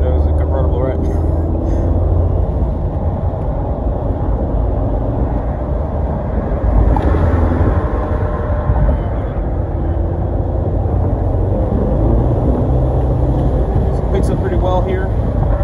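A 2018 Ford Mustang EcoBoost convertible cruising on the highway, giving a loud, steady road and wind roar that fills the whole stretch, with a person talking over it.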